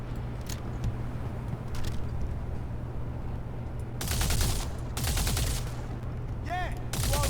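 Rifle gunfire in the space game Star Citizen: several rapid bursts of loud, sharp shots in quick clusters over the second half, over a steady low hum of background ambience.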